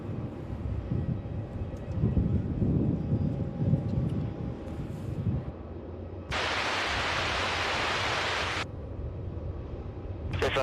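A Singapore Airlines heavy jet takes off from runway 27 at Melbourne Airport, a broad steady roar that swells suddenly and holds loud for a few seconds before cutting back to a low rumbling background.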